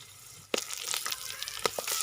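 Chicken drops into hot oil in a karahi and sizzles steadily, with a couple of sharp pops and crackles as the pieces hit the pan, then a continuous frying hiss with small stirring clatters.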